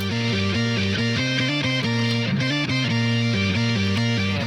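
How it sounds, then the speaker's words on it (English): A gritty, pitch-shifted electric guitar solo run through auto-tune, layered with harmony lines, the stacked notes moving in step, loud and dense throughout. "really gritty, pitch-shifted guitars running through auto-tune"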